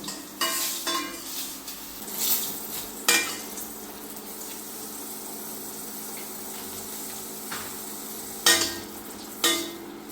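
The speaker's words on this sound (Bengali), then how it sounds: "এখন মরিচগুলি ভাজা হয়ে গেছে" Green chillies fry in oil in a pan with a steady close sizzle, broken by several sharp spattering pops and scraping stirs, no voices.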